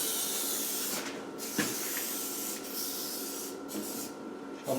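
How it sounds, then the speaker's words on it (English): An aerosol can of rustproofing spray hisses in steady bursts around the door shuts and frame of a Land Rover 130, with short pauses between sprays and a closing clunk near the end. "Spray it around the shuts."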